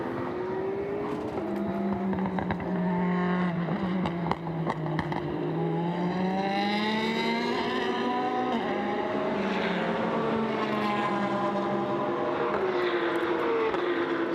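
GT race cars at Paul Ricard circuit, GT4 class including a Porsche Cayman, roar past with loud, sustained engine notes, pitches rising and falling through gear changes as several cars blend together continuously.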